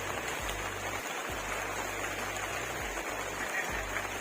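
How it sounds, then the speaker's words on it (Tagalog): Steady rain hiss falls across a garden plant stall, a continuous wash with a low hum running underneath and no voices. "Naulan."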